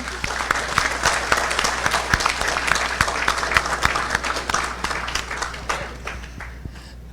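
Crowd at a university investiture ceremony applauds the new president: a dense, lively round of clapping with distinct sharp claps, a low hum beneath and some voices mixed in, thinning out toward the end.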